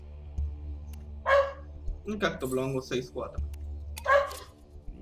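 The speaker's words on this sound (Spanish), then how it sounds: "Se alteran los perros." Dogs bark in the background, a few sharp yips and barks breaking through while someone talks over them.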